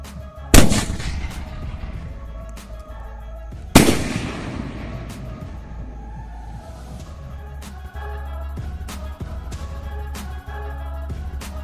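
Two loud sharp bangs from a small Diwali sky shot firecracker, each launching and bursting, then a long crackling, fizzing tail with scattered pops in open air.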